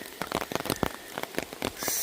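Rain patters steadily on a hard surface, with close, distinct drops hitting in an uneven rhythm and no other sounds.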